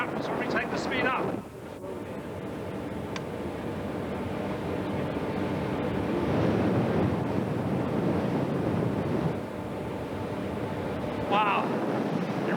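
Wind rushes steadily past a fast-moving bicycle rider at around 40 miles an hour, a loud continuous roar that swells and stays strong throughout, with someone talking over it.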